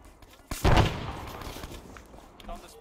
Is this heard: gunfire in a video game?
yes